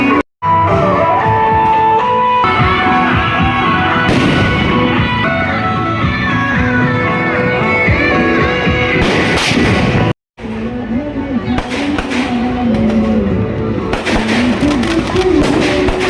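Firecracker bombs burst at a Chhath Puja morning offering in Bihar as a loud, dense series of blasts. They come with music and crowd noise, and there are two brief silent gaps.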